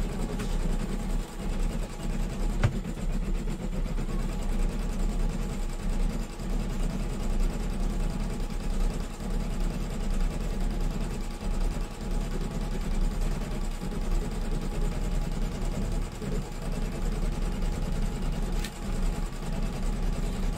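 An embroidery machine stitching steadily, a continuous fast mechanical hum and rattle at even loudness heard close with no talking.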